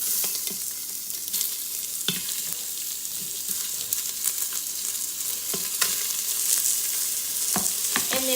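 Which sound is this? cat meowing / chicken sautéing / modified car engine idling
chicken sautéing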